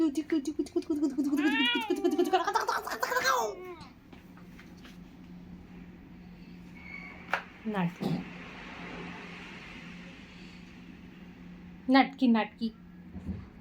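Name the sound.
cat meowing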